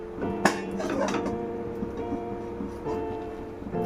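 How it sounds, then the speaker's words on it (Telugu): A thick, heavy cooking pot and a plate are set up on the stove to bake a cake without an oven. One sharp metallic clank is followed by a few lighter clinks and scrapes, nearby and with no talk. "ఇలా మందపాటి గిన్నె తీసుకొని ప్లేట్ పెట్టుకొని"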